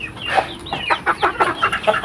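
Chickens kept by a farm family in a rural province cluck in a quick run of short, close calls, several birds overlapping with no talk.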